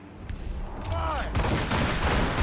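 Ship cannons firing during a naval battle in the game Assassin's Creed Rogue, a dense rolling barrage of booms that builds and sustains under shouted crew commands.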